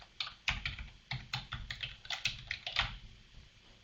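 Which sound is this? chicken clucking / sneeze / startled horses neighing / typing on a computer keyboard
typing on a computer keyboard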